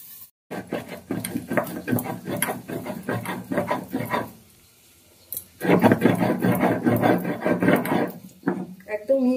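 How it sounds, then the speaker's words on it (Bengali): A spice paste is ground finely on a grinding stone in a home kitchen while cooking tangra fish curry, giving rhythmic rasping, scraping strokes in two long runs separated by a short pause. "একদম মিহি করে মশলাটা বেটে নিলাম।"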